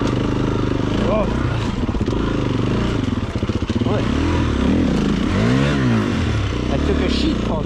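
A Stark Varg electric enduro motorcycle ridden off-road, its motor whining and rising in pitch while the chassis clatters and scrapes close by, with a rider's voice talking over it.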